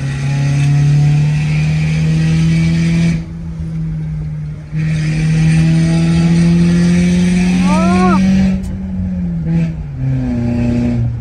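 Mercedes-Benz car engine held at a loud, steady drone, then briefly dropping and rising again with rev changes near the end; close and continuous, with no talk.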